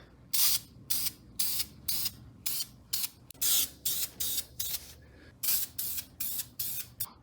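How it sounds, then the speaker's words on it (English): Repeated short bursts of spray paint hissing from a can onto car brake calipers, about a dozen evenly spaced sprays, close and fairly loud. "and then we'll spray the paint"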